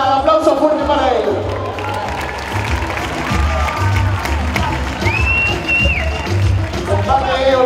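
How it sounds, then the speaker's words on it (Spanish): Boxing match crowd at an amateur Olympic-distance bout in Asturias applauding and cheering loudly, with dense sustained clapping mixed with shouts and crowd babble throughout. "aplauso fuerte para él"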